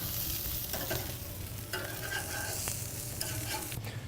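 Hamburger patties sizzling on a grill, a steady broad hiss of frying fat with faint scraping and shifting noises as patties are moved, close and continuous throughout.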